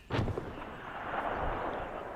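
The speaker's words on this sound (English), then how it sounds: "I can hear my cannons firing." Cannons firing artillery shots in a video game: one sharp boom followed by a long rumbling tail and distant battle noise, fairly loud with no talk.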